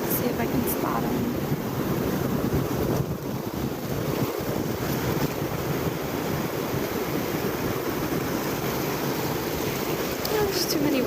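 Ocean waves roll onto a beach at sunrise in a steady, loud wash of surf, heavily mixed with buffeting wind noise on the microphone, with no voices heard.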